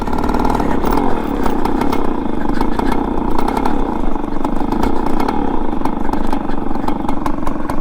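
Suzuki Max 100 two-stroke motorcycle converted into a dirt bike, its engine running steadily and loudly up close with a throbbing, rhythmic two-stroke beat and mechanical clatter, no talk over it.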